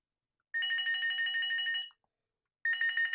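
A Cisco IP desk phone rings with a warbling electronic trill, one long ring, a short pause, then another ring begins; clear and nearby.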